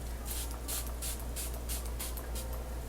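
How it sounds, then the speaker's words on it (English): A series of short, evenly spaced bursts from a MAC makeup setting spray, about eight quick hissing puffs in steady rhythm, close and fairly loud. "I like to use my MAC spray just because I like it."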